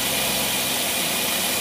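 A highly modified engine fitted with a Carter AFB carburetor idles at 1,000 RPM, giving a steady, loud, continuous rumble with no break or change across the short span.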